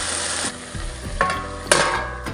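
Greens frying in a pan with salt and mustard-ginger paste, a steady loud sizzle broken by a few scraping stirs of the spatula, close and without talk.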